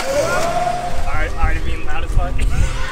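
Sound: manual car being driven into the shop

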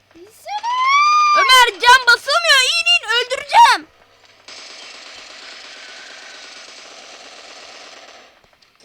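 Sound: gunfire in a shooting video game

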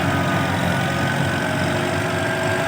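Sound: Kubota M70 tractor engine pushing soil

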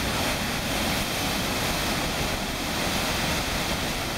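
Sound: floodwater rushing over dam after Tropical Storm Irene

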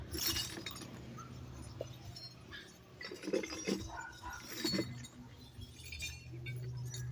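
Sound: empty glass soft drink bottles clinking while being sorted into sacks

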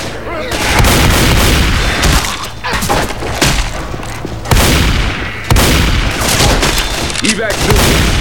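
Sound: sniper rifle gunfire in the video game Left 4 Dead 2

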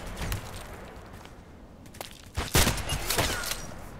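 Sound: sniper rifle gunshot in a video game

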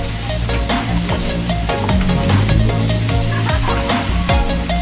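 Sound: margarine sizzling in a hot casserole pan

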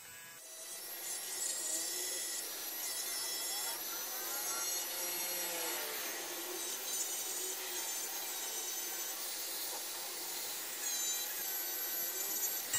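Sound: filing the burr off a handmade ring

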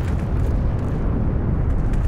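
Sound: bicycle exploding in video game Heroes & Generals

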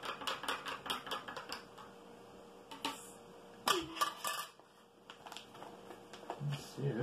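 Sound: opening an MRE accessory pack

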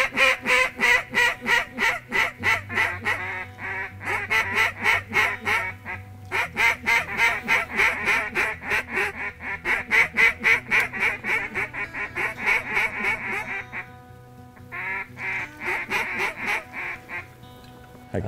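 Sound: ducks flying in and quacking

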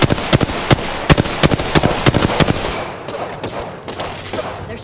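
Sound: gunfire in Apex Legends video game

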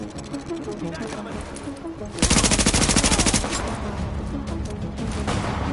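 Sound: gunfire in the video game The Division

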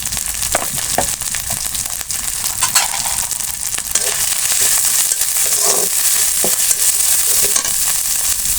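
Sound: chili powder and spices being sautéed in a frying pan

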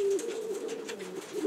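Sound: pigeon cooing

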